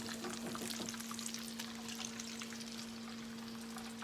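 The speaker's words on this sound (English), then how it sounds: "I'm just gonna pour it up out of here because I need me some left for making my gravy" Steak grease drippings are poured from a pan into a small pot, a steady close liquid trickle and splash over a faint background hum, with no talking.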